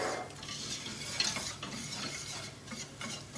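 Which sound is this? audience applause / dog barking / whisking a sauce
whisking a sauce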